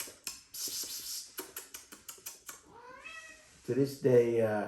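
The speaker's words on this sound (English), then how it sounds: "this is the cat" A domestic cat meows several times nearby, the plaintive calls stretching out and rising toward the end, while a person talks over it and coaxes the animal.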